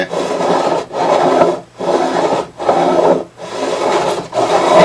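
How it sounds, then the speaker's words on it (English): Fret beveling file rasping across guitar fret ends, four or five steady back-and-forth strokes with brief pauses between, close and gritty, with no talking. "Hear that? That's cutting into the frets."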